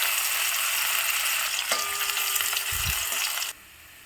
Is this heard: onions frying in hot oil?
yes